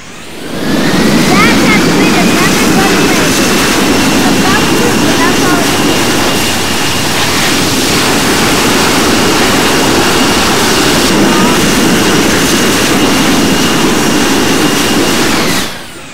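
A Spirit airliner's jet engines roar steadily and loud from inside the cabin as the plane comes in to land, a continuous broadband drone with a faint whine, rising at the start and fading at the end.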